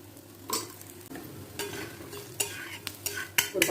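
Adai batter frying in oil on a pan, heard up close as a soft, steady sizzle broken by sharper crackling bursts and scraping.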